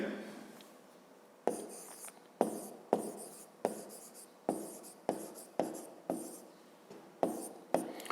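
Pen writing in a school math exercise book, a series of about thirteen sharp, close scratchy strokes at a steady, uneven rhythm, each short burst fading quickly, with no talk over it.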